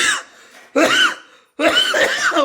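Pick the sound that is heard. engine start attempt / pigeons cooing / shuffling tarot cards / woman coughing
woman coughing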